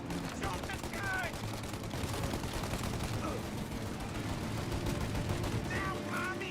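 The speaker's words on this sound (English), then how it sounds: "Now! Shoot the gun!" Sustained gunfire in the video game Mafia Definitive Edition: a dense, continuous barrage of rapid shots that fills the whole stretch at a constant loud level, with voices shouting over it.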